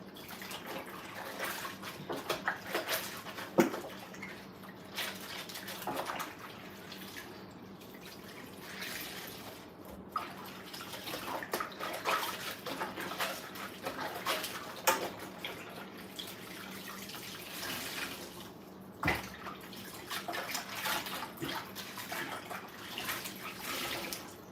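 Wet kitchen towels wrung out by hand, water splashing and dripping into a sink in short irregular bursts with a steady trickle between, close and fairly quiet, no talking.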